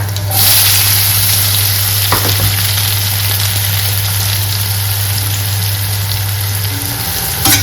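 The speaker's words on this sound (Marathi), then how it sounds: "तर कांदा ना भरपूर लाल करायचे आपल्याला थोडा फुल गॅस करून क्रिस्पी लाल" Onions and garlic frying over high heat until crispy brown, a loud steady sizzle with a constant low hum beneath it and occasional stirring scrapes, no voices.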